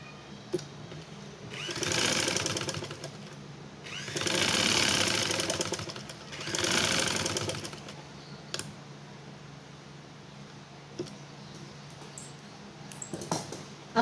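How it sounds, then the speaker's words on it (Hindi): A sewing machine stitches back over an existing seam on a child's dress, running in three bursts of roughly two seconds each with short pauses between. It is moderately loud and no one talks over it. "सिलाई के ऊपर सिलाई चला देंगे"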